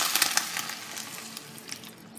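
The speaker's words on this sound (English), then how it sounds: "Add in the water." Water added to a pan of pasta sauce with noodles and meat hisses and sizzles softly, with scattered crackles and splashes that fade slightly as it settles.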